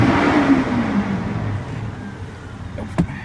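2002 Toyota Tundra V6 regular cab engine running after a belt replacement, a loud rev that sweeps down and settles into a quieter idle, with a brief knock near the end.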